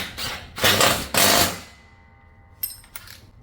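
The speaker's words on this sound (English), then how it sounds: "Now I just hold a wrench on this side and I can run it down with the socket on the bottom side of the deck." A socket wrench runs a bolt down on the underside of a Cub Cadet XT1 Enduro mower deck, giving a few close, loud bursts of ratcheting and metal clatter, then a couple of sharp metallic clinks afterward.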